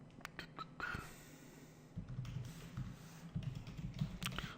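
Keystrokes on a computer keyboard while writing JavaScript code, a quick burst of clicks followed by steadier, close-up typing with soft breathing underneath.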